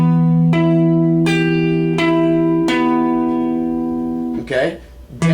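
Guitar picking the opening part of a song, four clear plucked notes ringing out steadily at a moderate pace, close and loud, followed by someone briefly speaking at the end.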